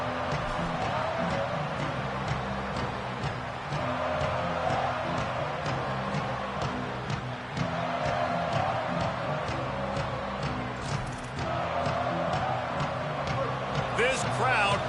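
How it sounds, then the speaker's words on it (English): Stadium crowd in a college football video game with the Buckeyes kicking off, a steady dense roar filling the whole stretch under continuous play-by-play commentary, with sharper thumps and bursts scattered through. "This crowd bringing an ear-splitting welcome to their visitors."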